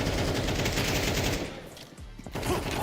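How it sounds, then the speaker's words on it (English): Rapid, continuous automatic gunfire in Counter-Strike 2, loud and close, with a brief gap near the end before shots resume. "Laying down some fire."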